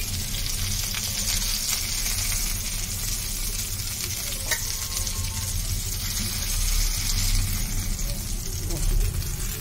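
Chicken satay sizzles steadily in hot oil, a dense broadband crackle running the whole time with a faint clink near the middle and soft background noise.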